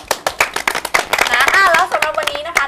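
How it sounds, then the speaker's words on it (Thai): An audience claps for a young band at a stage event, a quick burst of sharp, close hand claps mixed with a cheering, sing-song voice that rises over the middle. "ต้องปรบมือให้คาราบาวแดงเลย"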